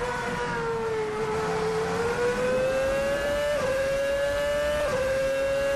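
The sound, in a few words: VRC F2007 Formula One car accelerating, Assetto Corsa video game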